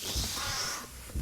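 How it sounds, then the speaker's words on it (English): Harsh crow caws from the wheat field birds in the video game Little Goody Two Shoes, a brief loud raspy burst over a dense noisy background. "now that I know how these scary wheat field birds work"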